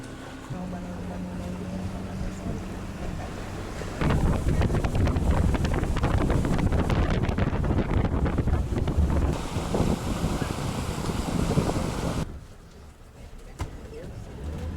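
A motorboat in Bocas del Toro, Panama, drones steadily along while wind buffets the microphone in heavy gusts, with water rushing beneath.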